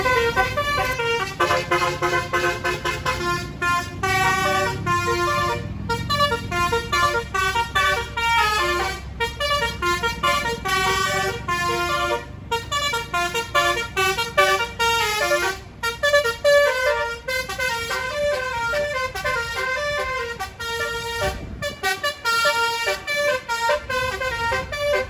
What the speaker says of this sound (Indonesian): Nanti kita tunggu bus dari Ahmad Jayan Trans dan kita oyot ya kawan.